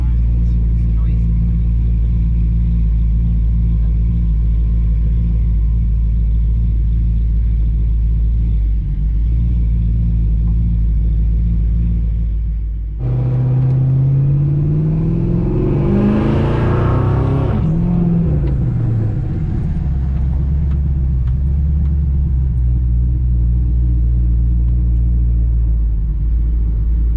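A 2000 GMC Sonoma custom truck engine rumbles loudly at a low steady idle, then revs up with rising and falling tones before settling back to its deep rumble.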